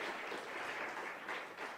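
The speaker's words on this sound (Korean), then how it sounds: "감사의 박수를 하면 좋겠습니다" Brief, faint applause of thanks from a seminar audience after a lecture on the translation of Calvin's Institutes: a soft, even patter of many hands clapping together, with no voices over it.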